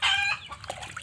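A chicken gives a short, loud, close cluck followed by a few quieter clucks.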